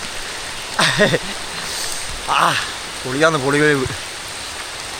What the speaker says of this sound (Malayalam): മഴ പെയ്യുന്നുണ്ട്. മഴ ഇപ്പോൾ പെയ്തുകൊണ്ടിരിക്കുക